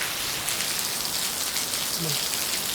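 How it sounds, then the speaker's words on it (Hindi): Heavy rain pours down steadily in a broadband hiss, close and loud throughout, with a faint voice briefly underneath. "भाई बारिश देखो कितनी तेज पड़ रही है, मजा आ रहा है।"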